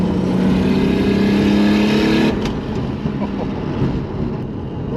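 Manual single-turbo Toyota Supra pulls hard from inside the cabin, engine rising through the revs before a shift, then settling into a lower drone with road and wind noise.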